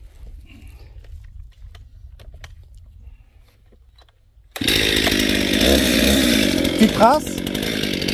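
After a few near-silent seconds with faint rustling, a small Stihl 261 chainsaw suddenly roars to life up close and bites into a branch, running loud and steady while someone speaks briefly.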